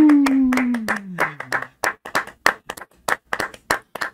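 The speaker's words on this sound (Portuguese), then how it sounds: "gostaria de salva de palmas para a dona Bárbara Juliana" A round of applause at a talk on sport and resilience: a voice trails off at the start, then scattered, uneven claps from a small audience follow in bursts with short gaps.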